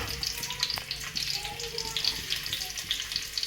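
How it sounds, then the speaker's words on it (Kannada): Steady, close sizzling of half an onion frying in hot coconut oil in a pan, a dense continuous crackle with faint stirring clinks. "ಕೊಬ್ಬರಿ ಎಣ್ಣೆ ಬಿಸಿ ಆದಮೇಲೆ ಒಂದು ಅರ್ಧ ಈರುಳ್ಳಿ"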